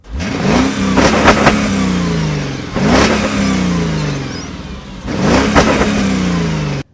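A Mercedes W210 E430 with a 4.3-litre V8 is revved three times in quick succession, each loud, close blip rising sharply and falling away before the next.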